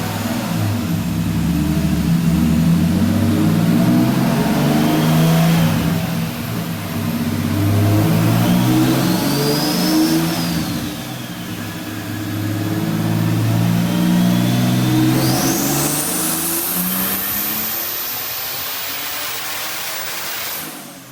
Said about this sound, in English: Hopefully we can get some more dyno pulls with this thing